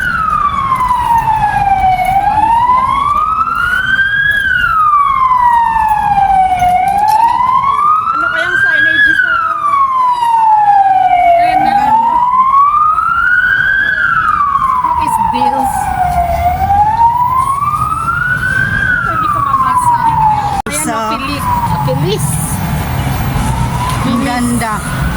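A police siren wails on a night street in Malta between Gzira and Sliema, a loud close rising-and-falling tone repeating about every five seconds over traffic rumble, with voices underneath.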